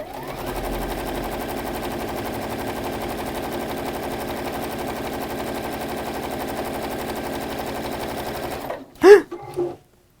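A sewing machine stitches fabric in a long steady run of rapid mechanical clatter, close and continuous for most of the clip, then stops abruptly before a couple of brief louder knocks near the end.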